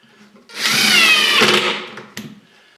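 A power drill drives screws into wood in one sustained whirring burst lasting over a second, close by, followed by a short clatter and quieter handling noise while installing drawer slides.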